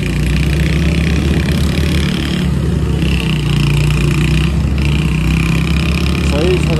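An old TVS Ntorq scooter runs with a loud, steady engine drone throughout, recorded close up while people talk over it.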